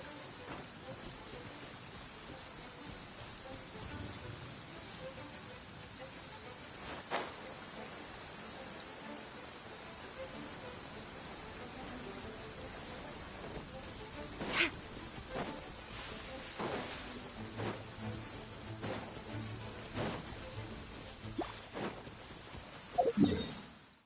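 Steady rain in Genshin Impact falls as a constant soft hiss, with scattered sharper drops and occasional low rumbles, faint and distant-sounding throughout.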